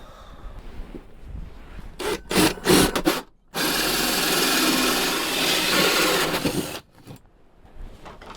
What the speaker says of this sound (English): let's drill the hole